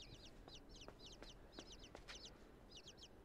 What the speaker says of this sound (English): I can hear more chicklets